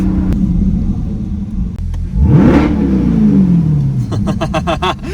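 A Nissan GT-R engine revs hard through a new exhaust with a rising and falling exhaust roar, rumbling loudly up close, then crackles and pops as it settles.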